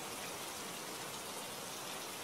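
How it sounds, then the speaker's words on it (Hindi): Heavy rain pours down steadily, a dense, continuous hiss of drops drumming on surfaces, close and constant throughout with no voices. "कितनी बारिश हो रही है"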